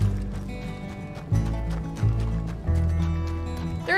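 Horse hooves clip-clopping in Red Dead Redemption 2 as the animal comes closer, with a few louder thumps against a background of game music and ambience, and no talking.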